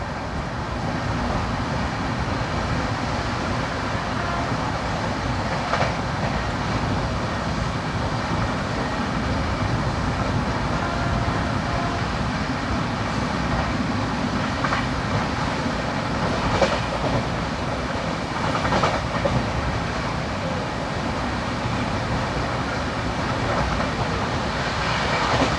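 Kochuveli Mumbai Express running at 110 km/h on Indian Railways, heard from inside a coach: a continuous loud rumbling roar with steady clickety-clack of wheels over rail joints and occasional rattles, no voices.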